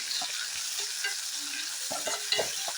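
Onions sautéing in a pan with green chilli, tomato and curry leaves, a steady sizzle broken by repeated scraping stir strokes of a spoon against the pan, close and fairly quiet, with no talking.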